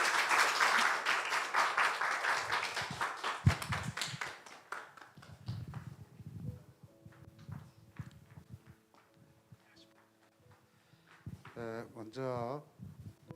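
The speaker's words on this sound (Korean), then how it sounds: "박수하겠습니다." A church congregation claps during a New Year's Eve worship service, a loud burst of applause at the start that fades out, followed by a voice speaking near the microphone alone.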